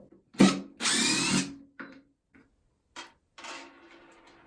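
A DeWALT 20V cordless drill whirs in reverse in short bursts, a loud sustained run followed by several brief trigger taps, close and without talk.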